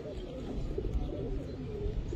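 Giribaz pigeons coo softly in a loft, low murmuring calls that repeat under a dense background of muffled activity and faint voices.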